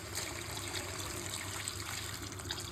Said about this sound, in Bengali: তো গরম জলটা সেভাবেই দেবো।